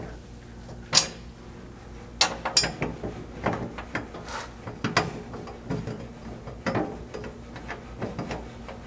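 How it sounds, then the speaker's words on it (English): A ratchet driving half-inch self-threading bolts into the factory cross member while installing a skid plate on a 100 Series Land Cruiser, close and loud, with a string of quick clicking bursts and pauses between turns. "start installing those 1/2 inch self-threading bolts"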